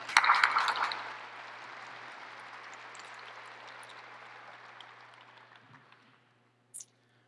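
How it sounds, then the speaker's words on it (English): An audience at a school fall assembly applauds a round for a speaker: a loud burst of clapping that slowly fades over several seconds to silence. "Let's give her one more round of applause."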